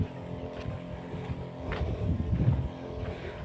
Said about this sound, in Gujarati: જોકે મારા પપનો અવાજ તમને આવશે થોડો ઘણો.